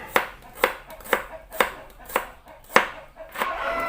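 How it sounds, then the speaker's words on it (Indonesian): A knife chops through three shallot cloves, slicing them thin on a board in sharp, evenly spaced taps, about seven close, clear strikes with no talking. "Ini aku gunakan 3 siung bawang merah diiris tipis juga"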